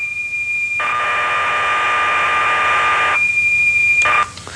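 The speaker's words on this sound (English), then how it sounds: "The program is in fact stored as a set of audio tones or whistles." A computer program stored on cassette tape plays back: a steady high-pitched whistle gives way to a loud burst of hissing data tones lasting a couple of seconds, then the whistle resumes before cutting off.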